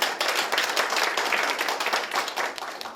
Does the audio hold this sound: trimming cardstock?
no